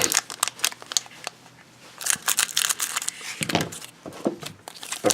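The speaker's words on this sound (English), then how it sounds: "And I have civilized scissors" Scissors snipping and crinkling through the foil wrapper of a Magic: The Gathering Ravnica Allegiance card pack, close-up in irregular bursts of cutting and rustling plastic.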